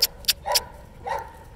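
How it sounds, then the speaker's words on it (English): A German Shepherd barks at a kennel: a few sharp, close barks in quick succession, followed by a couple of deeper, longer woofs, with no talking. "Just showing you a couple of the dogs today, Victor and Naala."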